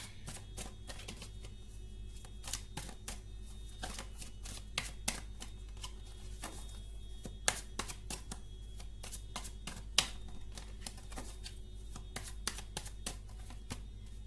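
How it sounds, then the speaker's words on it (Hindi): Tarot cards being shuffled and drawn at a table, giving a steady run of quick, soft card clicks and snaps over a low background hum, with no talking. "ओके, और एक कार्ड निकालते हैं।"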